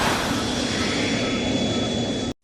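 Ultraman's stock sci-fi sound effect plays as a steady, dense roar with a thin high whine running through it, holding level for about two seconds before it cuts off abruptly.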